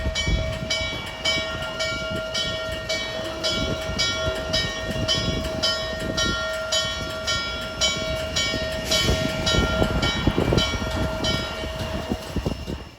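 Steam locomotive 611 rumbles nearby with rhythmic clanking and a steady tonal hiss, growing slightly louder toward the end as it approaches, at the Railroad Museum of Pennsylvania.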